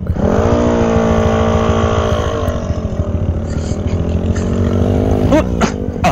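A Honda Grom motorcycle revs close and loud during wheelie practice, engine pitch climbing and holding in a sustained drone before dropping off and blipping again near the end.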